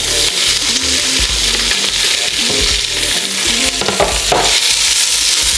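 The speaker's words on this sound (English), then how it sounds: "I'm finna saute my onion just for a minute" Onion sautéing in a hot pan during home cooking of a Sunday dinner of neck bones and black-eyed peas, a loud, steady close-up sizzle with a few stirring clatters, no talking.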